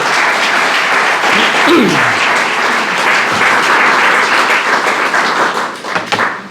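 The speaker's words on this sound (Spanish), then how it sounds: "Dale un fuerte aplauso al Señor." Congregation at a church service clapping loudly and steadily for the whole stretch, a dense wash of applause with a brief voice heard underneath.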